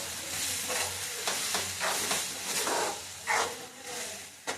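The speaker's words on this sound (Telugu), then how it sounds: "ఇప్పుడు ఈ పాలకూరని ఈ టమాటాని మిక్స్ చేసేసుకొని మొత్తం ఒక దగ్గరగా కలుపుకుందాం." Spinach and tomato curry being stirred in a pan, with a steady sizzle under repeated scraping strokes of the spoon, close and moderately loud, no voices.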